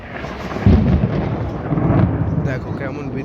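Thunder rolls during a thunderstorm in Darjeeling, a deep rumbling crack that swells and fades over a few seconds amid rain-like background noise.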